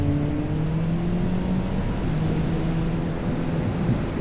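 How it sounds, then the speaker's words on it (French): Inline four-cylinder engine of a Honda CB650R motorcycle climbing a mountain pass road, a steady loud drone holding a continuous hum with slight pitch shifts, no voices. "oui, cette moto, c'est un 4 cylindres."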